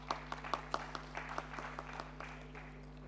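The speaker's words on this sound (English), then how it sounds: "give a big round of applause" Scattered clapping from an audience at a forensic science summit's inaugural ceremony, marking an MOU exchange on stage; fairly faint and thin with a steady electrical hum underneath.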